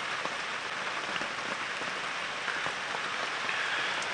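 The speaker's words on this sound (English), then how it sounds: "It seems like the rain is just slowing down a little bit" Rain falls steadily on surfaces around an open vehicle during an early-morning safari drive at a South African game reserve, a dense, even hiss with scattered close drips and taps, continuous and moderately loud.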